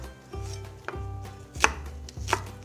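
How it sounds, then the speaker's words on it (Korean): Half an onion diced with a knife on a cutting board: four firm, evenly spaced chops, close and clear, with no talking. "다음으로 양파 반 개를 깍둑 썰어 준비해 주세요."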